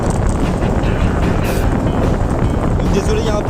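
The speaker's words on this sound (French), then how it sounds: "désolé, il y a un peu de vent" Wind buffeting the microphone while riding an Engwe P1 e-bike outdoors, a loud, constant rough roar with gusty swells filling the whole clip.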